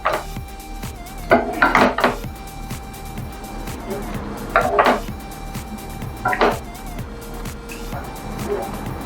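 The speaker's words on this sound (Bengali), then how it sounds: "এবার আমি একটু ঢেকে দেবো, একটু ঢেকে ঢেকে ঢেকে একটু ভাজা ভাজা চিকেনটাকে ভাজা ভাজা করে নিতে হবে।" Metal clatter of a lid being handled over a pan of frying chicken, with several sharp clanks of cookware and utensils against steady background noise, with no talk.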